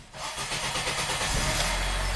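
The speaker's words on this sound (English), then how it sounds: "Okay, start the engine." Acura RDX engine cranking and catching during a turbo wastegate and boost pressure test, settling into a steady, loud idle rumble close by.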